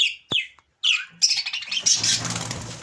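Budgerigar chicks give a few sharp, high chirps up close, followed by a rustling, scuffling clatter as they move about.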